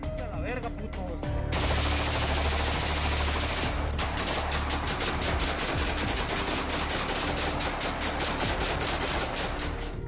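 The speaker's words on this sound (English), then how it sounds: "the group unleashes a barrage of gunfire into the sky, a deafening punctuation mark to their ominous message." An armed cartel group fires a sustained barrage of gunfire into the sky, a dense, continuous roar of rapid shots that runs for several seconds. A faster, crackling stream of bursts follows, loud and unbroken throughout.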